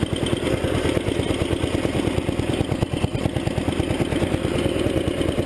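A 1975 Sears Suburban ST16 lawn tractor idling close by, a steady, rapid low putter with a faint mechanical clatter running evenly throughout.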